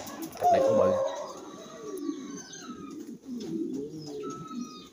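Pigeons coo at a pigeon farm, a loud nearby call opening the clip followed by softer repeated cooing, with faint chirps and people talking throughout.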